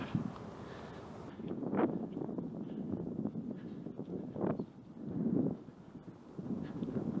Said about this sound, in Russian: Еще только утро, а уже ветер.